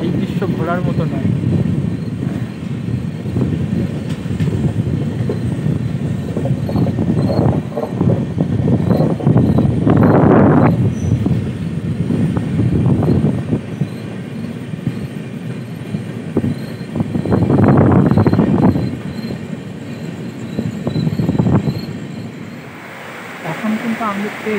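A passenger train rolls into Guwahati on the return run from Sairang toward Kolkata, a steady loud rumble of wheels on rails with squeals and clanks, while someone talks over it throughout.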